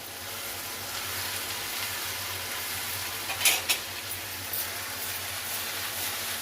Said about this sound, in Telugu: క్యాప్సికమ్ వేసుకొని అంతా బాగా కలిపి పెట్టుకోవాలి.